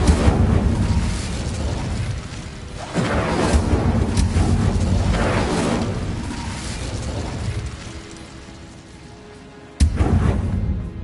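In the video game Hogwarts Legacy, the Incendio fire spell bursts into flame in several loud, roaring whooshes separated by gaps, with a sharp fiery blast near the end.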